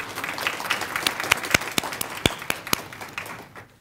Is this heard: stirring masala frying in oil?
no